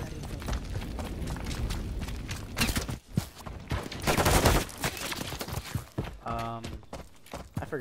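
Video game combat in Modern Warfare 3 with rapid turret gunfire: dense, loud bursts of automatic shots and impacts that swell and fade over several seconds, mixed with game effects.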